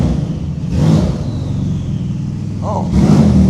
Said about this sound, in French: Oh, le bruit des turbos, frère.